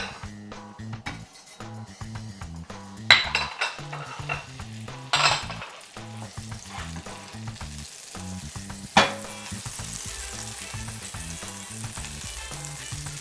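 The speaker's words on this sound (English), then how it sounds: "Now melt some butter in the pan." Butter melting in a frying pan gives a steady sizzle and crackle with a few sharp clinks of a utensil against the pan. A low rhythmic background hum runs underneath.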